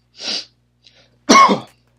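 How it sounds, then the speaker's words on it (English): Two close, forceful coughs separated by a short pause, the second harsher and louder, with a faint breath in between. "excuse my coughing"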